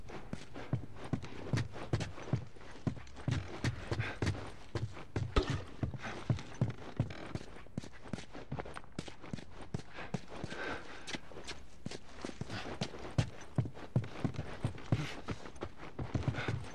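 Horse hooves clip-clop steadily on hard ground in The Last of Us on PS3, a continuous uneven patter of footfalls at moderate distance with faint background ambience and no speech.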